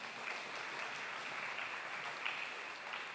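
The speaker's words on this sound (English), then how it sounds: "Another round of applause for Dr. Erica, please." Audience at a STEM conference plenary applauding Dr. Erica, a continuous, fairly distant round of clapping from a large crowd, even and sustained with no voices over it.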